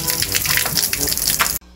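Tap water gushes steadily from a faucet in South Africa, a loud continuous splashing rush that cuts off abruptly near the end.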